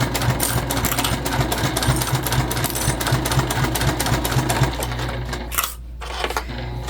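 A Juki TL2010Q sewing machine runs steadily through leather, a rapid close rhythmic chatter of needle strokes with a low motor hum, stopping near the end with a short clack before the hum settles.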